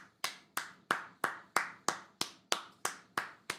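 Eleven sharp, evenly spaced claps ring out alone at a steady rhythm, each crisp and close with a short decay.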